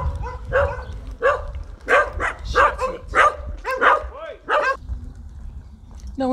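Several dogs bark repeatedly in Cononley village, loud and fairly close, with irregular bursts of barking and a few yips over about five seconds before they fall quiet.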